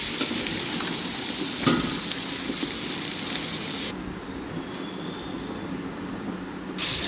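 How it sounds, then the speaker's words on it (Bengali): Potatoes, dusted with spice powder for an egg-and-potato curry, fry in a pan with a steady, loud, close sizzle that carries on without a break and without any voices. "5 থেকে 10 মিনিট এখন আমি ভাজবো"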